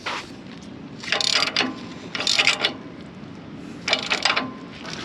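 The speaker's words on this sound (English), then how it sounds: "I tighten it down and loosen it up, tighten it a little more" A wrench tightening the nut on a split rim wheel, giving three short bursts of close metallic ratcheting clicks separated by brief pauses, with no talk over them.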